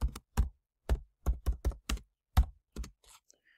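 Keys on a computer keyboard are struck in a short run of about nine distinct, close, dull taps at an uneven typing rhythm, followed by near silence.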